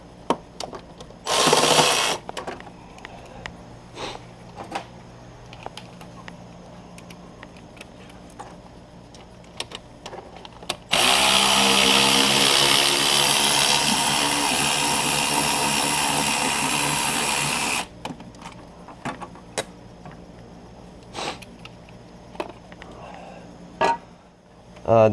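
A power tool loosens T30 Torx bolts from an Audi 3.2L FSI timing chain cover: two whirring bursts, one brief and one lasting several seconds, amid quiet clicks and taps of parts being handled.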